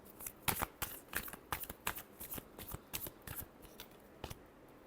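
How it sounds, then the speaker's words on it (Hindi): Tarot cards are shuffled by hand in a quick run of crisp riffles and slaps, close and fairly quiet, with no voices over them. "last shuffle"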